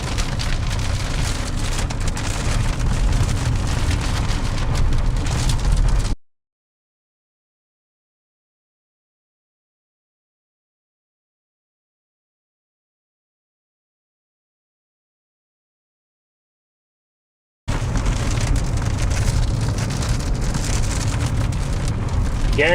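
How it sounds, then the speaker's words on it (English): Rain and hail pelt a storm chaser's vehicle during a severe storm near Edmonton, a dense steady patter that drums on for several seconds, stops, then returns just as loud. "We intercepted a few larger hailstones. They still might be throwing them out here."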